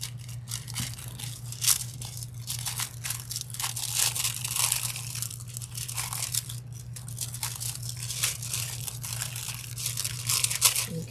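A hand rubs transfer foil onto a tumbler, making a continuous close scratchy crinkling with small crackly accents, steady in loudness throughout over a low constant hum.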